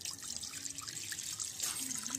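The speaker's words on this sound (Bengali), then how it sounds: "কড়াতে আমি কিছুটা পরিমাণ দুধ দিয়ে দিচ্ছি।" Milk pours into a wok in a steady, gurgling stream that sounds close and continuous, with small splashes and trickling.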